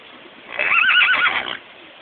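A horse whinnies once during a training session at a horse clinic, a loud, close, wavering neigh lasting about a second over faint background noise.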